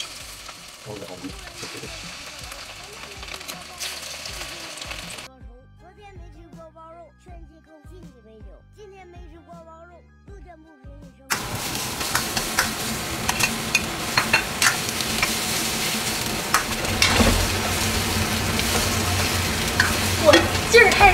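Sliced meat marinated with salt is dropped into a hot pan and stirred, giving a loud, continuous frying sizzle with scraping of the utensil after a quieter stretch of clinks and handling.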